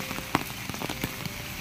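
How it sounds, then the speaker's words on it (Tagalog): Rain pelts surfaces in gusts during a strong windstorm that is toppling trees, a dense hiss broken by sharp, irregular drop impacts nearby. "Malakas talagang hangin, pero yung ulan pabugso-bugso mga kalingap."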